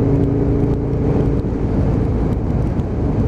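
An Aprilia RSV Mille motorcycle engine running on a ride, a loud steady low drone with constant wind rush, heard close from the rider's position, no talk.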